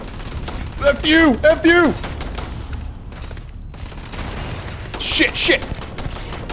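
Rapid gunfire bursts from a weapon in the space game Starfield, loud and close, arriving in quick clusters while a player shouts and swears over the action.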